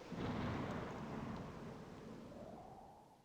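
A long thunder rumble in a 3DO video game cutscene during a storm with lightning and strong winds, a deep roll that swells quickly and slowly fades over about three seconds, with no voices.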